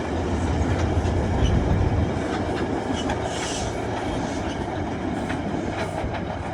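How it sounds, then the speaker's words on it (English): Metrolink commuter train led by an EMD F125 locomotive passes along a beachside line, a loud, steady rumble with clattering wheels and faint squeals throughout, heard close with no talk. "And here's a Metrolink train."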